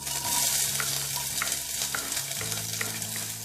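Onions sizzle and crackle steadily in hot oil, a dense, continuous frying hiss with occasional stirring sounds, close by and with no talking.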